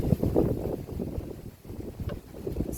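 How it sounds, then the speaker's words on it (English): Gusty wind buffeting the microphone, a low rumbling roar that swells and eases, with a faint rustle in the background. "It's really windy day today."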